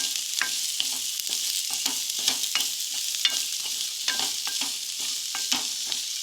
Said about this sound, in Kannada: ಈರುಳ್ಳಿ ಇದೆಲ್ಲ ಒಂಚೂರು ಫ್ರೈ ಆಗಬೇಕು